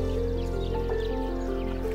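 Water is poured into an olla buried in a garden bed, giving a continuous gurgling, sloshing fill under a steady low hum, at moderate closeness for the whole stretch.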